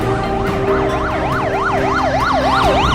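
A police car siren wails in a fast, rising-and-falling yelp, loud and close throughout, with a steady engine-like hum beneath it, in a short film shot in a home driveway.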